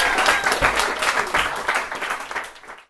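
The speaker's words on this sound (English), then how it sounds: "Please give a warm round of applause for the first comedian on an English comedy night in Frida ever" Applause from an open-mic stand-up comedy night audience greets a comedian, a dense steady clatter of many hands clapping close by for about three seconds before cutting off abruptly.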